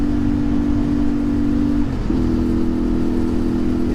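A CFMoto Ibex 450 adventure motorcycle on a group ride over curvy roads, its engine droning steadily with a brief dip and then a higher, stronger pull as the throttle opens, loud and close with wind noise throughout.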